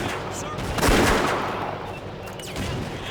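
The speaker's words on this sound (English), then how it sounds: "Mortar's on the way." Mortar and small-arms gunfire in the World War II strategy game Blitzkrieg 2, set in the defense of the Philippines: a dense, steady rattle of shots with a heavier blast near the start, going on for about three seconds.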